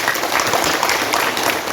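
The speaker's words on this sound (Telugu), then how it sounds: "కానీ వెరీ గుడ్ క్లాప్." A yoga class audience claps together in a dense, steady burst of applause that lasts a couple of seconds with no pauses.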